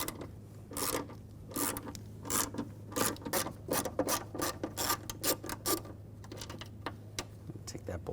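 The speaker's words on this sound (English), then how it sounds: "We're going to use a T30 socket." A T30 socket ratchets and turns, loosening the front door check bolts on a 2006-2010 BMW 550i, with a series of close, quiet clicking and rasping bursts over a faint steady hum.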